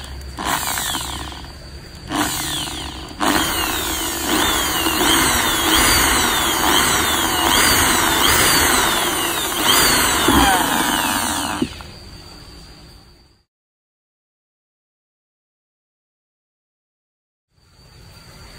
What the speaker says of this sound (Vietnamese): Bây giờ mình bắt đầu khoan đấy.